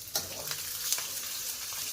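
Garlic and ginger fry in oil in a pan for a Punjabi chicken gravy, making a bright, close sizzle with a few quick stirring scrapes and no speech.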